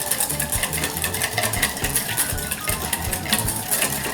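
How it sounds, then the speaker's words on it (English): A whisk beats salad dressing with honey in a bowl, making a quick, steady run of metallic clicks and scrapes that stays close and moderately loud, with no talking. "we're going to give that a nice little whisk very quickly"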